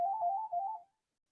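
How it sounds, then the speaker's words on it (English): A phone rings during a lecture, a short electronic warbling tone close by that stops abruptly after under a second, followed by silence. "Sorry, there's a phone. Hold it. I'll turn this off."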